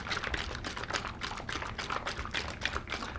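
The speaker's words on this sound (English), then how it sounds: "I'm going to take my formula, I'm going to shake it" A container of tube feeding formula is shaken in steady rapid strokes, giving a close, continuous sloshing and rattling rhythm with no voices.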